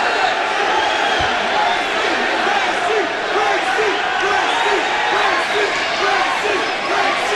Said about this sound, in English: the crowd chanting USA again for Dan Severn against the Brazilian Royce Gracie